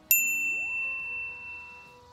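A bright notification bell ding strikes once sharply, then its clear metallic tone rings out and slowly fades with a gliding synthetic shimmer beneath, alone without any voices.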